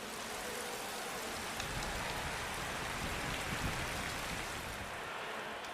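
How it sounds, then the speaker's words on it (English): Steady rain pours down on a race track in the MotoGP 20 game, a dense, even hiss that holds at the same level throughout with no talk. "The rain has been falling relentlessly for a few hours now"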